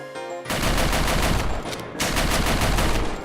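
Rapid automatic gunfire from a weapon in the video game Snezhinka: Sentinel Girls 2, two loud sustained bursts of dense shots separated by a brief gap, close and harsh.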